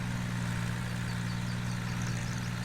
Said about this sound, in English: I love the engine sound on this.